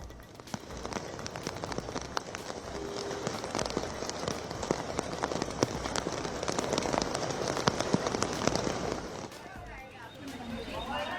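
Heavy monsoon rain in Mumbai falls steadily and loudly in a dense, continuous patter of drops striking surfaces, with a brief lull near the end.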